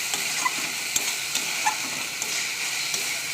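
Onion, ginger and garlic fry in hot oil in a wok with a steady, close sizzling hiss and occasional small pops and spatters, no talking.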